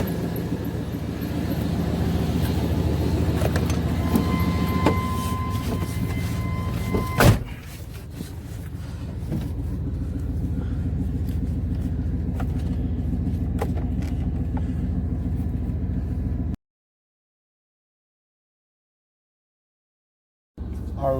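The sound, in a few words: 1994 Chevy Tahoe 350 V8 truck driving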